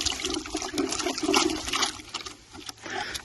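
Black walnuts shaken and sloshed around in a bucket of water, giving a steady, close churning wash of splashing and gurgling that swells and eases in waves for a few seconds.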